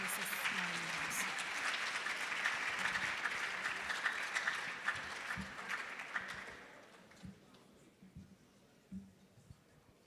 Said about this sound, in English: Please, let's put our hands together for Mrs. Marilyn Owusu.